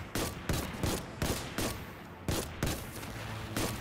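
Rapid semi-automatic scout rifle fire in the first-person shooter Destiny 2: Forsaken, eight or nine sharp, evenly spaced shots ringing out close and loud over a low ambient game rumble, with no talking.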